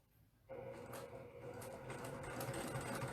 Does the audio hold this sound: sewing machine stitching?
yes